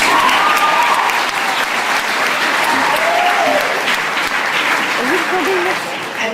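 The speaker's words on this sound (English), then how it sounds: "let's give these grown-ups a round of applause" A graduation ceremony crowd applauding loudly and steadily for several seconds, dense clapping with a few whoops rising over it, tapering slightly at the end.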